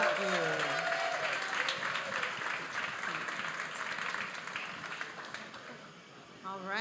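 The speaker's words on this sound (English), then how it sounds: "Let's give both Sharon and Daniel a round of applause." An audience at a harvest ball gives a round of applause for two guests, broad, sustained clapping that starts under a speaking voice, then fades slightly before a voice returns at the end.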